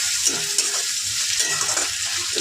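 Cumin seeds and two bay leaves frying in a pan of oil for a chicken curry, giving a steady close sizzle with soft stirring scrapes and no talking.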